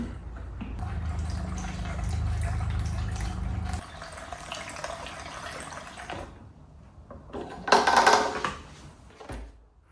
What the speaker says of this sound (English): What we're gonna do right now is just fill the tank